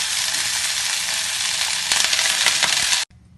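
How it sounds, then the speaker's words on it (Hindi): Paneer frying in hot ghee for palak paneer, a loud, dense crackling sizzle that runs steadily, grows busier with sharp pops near the end, then cuts off abruptly. "अब हम पनीर को थोड़ा सा फ्राई कर लेते हैं"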